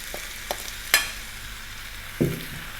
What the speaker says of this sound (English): we're going to throw this around in the pan, stirring often